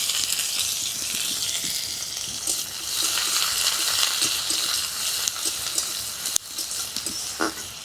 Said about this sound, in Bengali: পেঁয়াজ কুচিটা একটু ভেজে নিচ্ছি